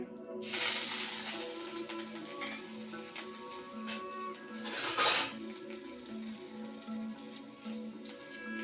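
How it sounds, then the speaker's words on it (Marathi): Curry leaves crackle and sizzle in hot oil in a kadhai, already seasoned with cumin, asafoetida and mustard seeds. A steady close hiss runs under the clatter of a stirring spoon, with a louder burst of sizzling near the end. "द्या जरा कढीपत्ता चांगला परतवून घ्या"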